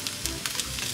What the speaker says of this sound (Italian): giriamo e facciamo brustolire da una parte e dall'altra